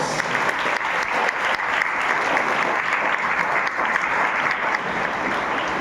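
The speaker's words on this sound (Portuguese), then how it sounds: "Vamos aplaudir o Senhor Jesus?" Congregation clapping together in a church during a Christmas service, a dense, loud and sustained wall of applause from a large crowd that stays steady throughout without any speech over it.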